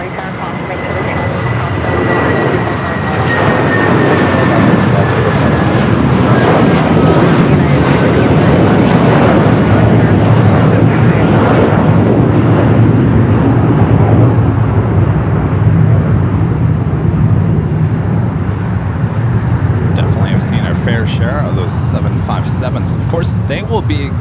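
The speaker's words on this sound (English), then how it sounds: "United 757-300 taking off back here on the south side" A United Boeing 757-300 taking off at LAX, a loud sustained jet roar that holds steady and slowly shifts in pitch, with a faint radio voice from the control tower over it.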